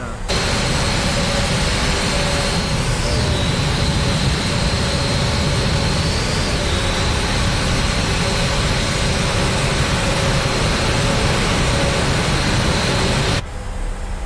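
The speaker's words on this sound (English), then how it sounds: "I'm going to back the aircraft sounds down just a little bit as we start to taxi here." Simulated jet engines of an airliner in Microsoft Flight Simulator 2020, sitting at Phoenix airport before taxiing, give a loud, steady roar with a high whine that holds for about thirteen seconds before dropping away abruptly.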